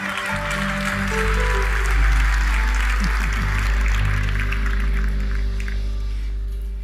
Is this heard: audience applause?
yes